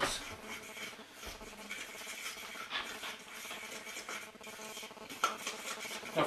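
Pork being mixed in a bowl for deep-fried bar food, soft continuous scraping and squelching with occasional light clinks of a utensil against the bowl, close but fairly quiet.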